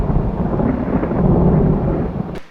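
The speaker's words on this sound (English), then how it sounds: "in the background here, I've got some thunder going on" A deep, continuous rumble of thunder rolls for a couple of seconds, loud and broad, then cuts off abruptly.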